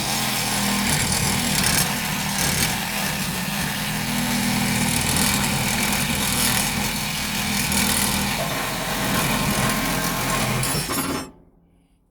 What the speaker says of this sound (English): Try to cut it as straight as you can.